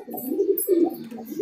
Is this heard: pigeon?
yes